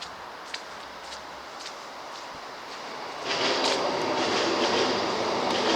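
A train rumbles past in the distance, the low clatter swelling suddenly halfway through into a steady, louder roar as it crosses a bridge on the Anglesey coast.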